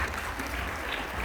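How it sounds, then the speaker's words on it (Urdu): A church congregation claps loudly at a Christmas sermon, a steady, dense wash of applause that holds evenly for the whole moment, with no voices standing out. "اس کے لیے پہلے زوردار تالیاں بجائیے"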